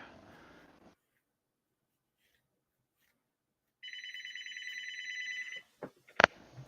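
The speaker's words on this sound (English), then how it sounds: "Whose phone is that?" A phone rings with an incoming call: after near silence, one electronic ringtone burst lasts about two seconds, followed by a couple of sharp clicks.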